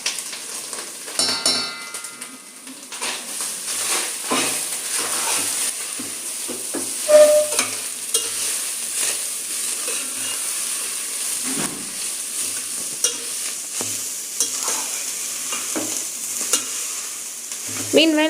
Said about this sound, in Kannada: ತೆಂಗಿನಕಾಯಿ ತುರಿ ಹಾಕಿ ಒಂದು ಸ್ವಲ್ಪ ಬಿಸಿ ಮಾಡ್ಕೊಳ್ಳೋಣ.